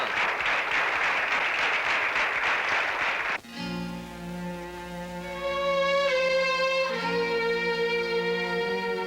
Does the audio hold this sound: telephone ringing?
no